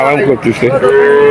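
A cow lows at Churighata cattle market in Jessore, a close, drawn-out moo with rising and falling pitch while someone speaks over it.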